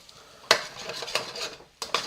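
Soy sauce splashed into a hot pan of beef fried rice hisses briefly while a utensil scrapes and clacks against the pan in quick, close strokes.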